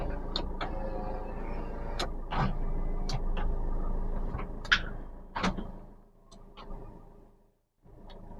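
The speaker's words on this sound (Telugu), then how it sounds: "ఆల్ పవర్ విండోస్ వర్కింగ్ అనమాట." Power windows on a 2018 Maruti Suzuki Ertiga VDI whir up and down in several separate runs, each motor hum ending in a thunk, recorded close inside the car with no talking.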